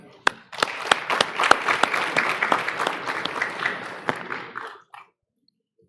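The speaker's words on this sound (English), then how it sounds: "So let's have a round of applause for them." An audience at a community event in a hotel courtyard applauds volunteers, with a full round of sharp overlapping claps lasting several seconds before it stops abruptly into quiet.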